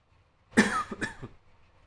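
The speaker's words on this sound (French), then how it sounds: "Désolé, je tousse un peu." A single close cough, sharp and throaty, followed by a second smaller cough, then quiet.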